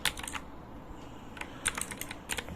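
Keystrokes on a computer keyboard while a Linux mkdir command is entered, quick irregular clicks in short bursts, close and fairly quiet over a steady low room hum.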